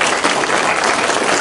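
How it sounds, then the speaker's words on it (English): A church congregation at a Sunday worship service applauds, a dense, loud, steady wash of many hands clapping together with no voices standing out. "Can we give him a round of applause?"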